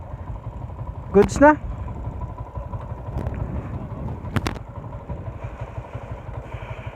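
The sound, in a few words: Yamaha Sniper 150 motorcycle engine revving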